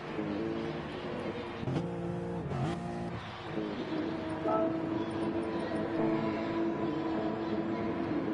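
Race car engines in a GT1 racing video game rev together on the starting grid before the lights go out, a steady dense roar with rising and falling pitch sweeps that fills the whole stretch.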